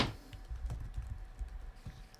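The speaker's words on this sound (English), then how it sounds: "My typing skills, legendary as ever." Fast, uneven keystrokes on a computer keyboard while playing the Feed the Beast modded game, a close, fairly quiet burst of clicks with no talking.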